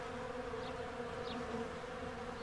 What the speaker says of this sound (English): You see the bees are pretty busy going in and out and collecting their bounty.